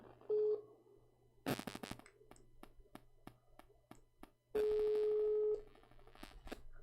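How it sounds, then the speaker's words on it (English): A phone is dialed to place a call: short tones open the sequence, followed by a run of sharp, evenly spaced key beeps and a longer steady tone near the end, all fairly clear and close. "Let me call Amir. Maybe he's asleep. Let me wake him up."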